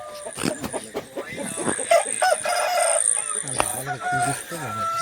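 Roosters and hens at a Telugu country-chicken farm, with rooster crowing and hen clucking in overlapping bursts close by throughout, mixed with other birds and faint background voices.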